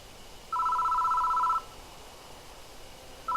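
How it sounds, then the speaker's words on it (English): A telephone rings in the horror video game Death Mark: a steady electronic trill lasting about a second, then a brief pause before the next ring starts, loud and clear over a faint background hum. "The phone is ringing."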